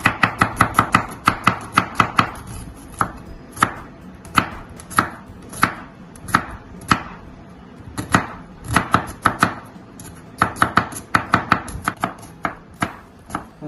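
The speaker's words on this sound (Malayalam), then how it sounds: "നല്ല നൈസായിട്ട് നമ്മൾ സവാള അരിഞ്ഞു കഴിഞ്ഞിട്ടുണ്ടോ" Rapid knife chops on a cutting board, crisp close taps in quick bursts and runs with short pauses between, as onion is sliced.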